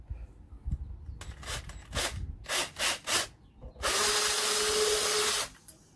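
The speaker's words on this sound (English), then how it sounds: "First thing we're going to do is drill our pilot hole." A power drill bores a pilot hole through the front fender of a Can-Am Ryker, with short whirring bursts followed by one longer, loud continuous run of the motor, close by.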